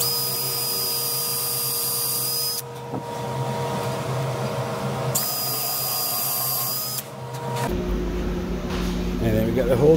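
A high-pitched power drill whines in two steady bursts with brief pauses between, drilling holes in a dovetail machine, followed by rougher grinding and clattering noise, close and loud.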